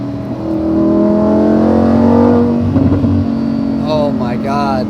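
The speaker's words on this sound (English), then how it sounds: "Yeah, that is a beautiful exhaust note." A supercar fitted with an Akrapovic exhaust, switched into Corsa mode around 4,000 RPM, revs up into a loud sustained drone with rising harmonics, then eases off with crackling pops while a person talks over it near the end.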